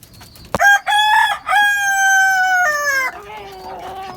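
A rooster crows loudly and close by on a rooftop where Tiger and native roosters and hens are kept: one sharp call, then a long drawn-out cock-a-doodle-doo trailing off into a lower, fading tail.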